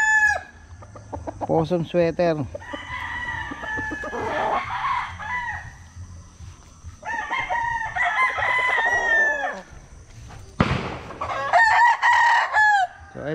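Several roosters crow repeatedly at close range in a farmyard, their calls mixed with chicken clucking and brief spoken words.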